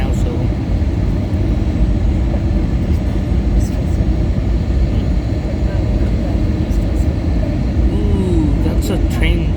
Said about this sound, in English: we're landing now